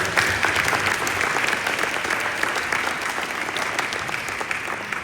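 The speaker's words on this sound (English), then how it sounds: "Would you give them a round of applause?" A room full of attendees at a group meeting giving a round of applause, dense sustained clapping that stays loud and even for about five seconds before easing slightly.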